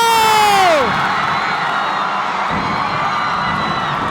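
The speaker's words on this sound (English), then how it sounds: "listen to this crowd of St. Clair go bonkers" A packed arena crowd at a St. Clare College versus Centro Escolar University college basketball finals game erupts in loud, sustained cheering and whooping, with a brief high whistle at the start, then a steady roar continuing throughout.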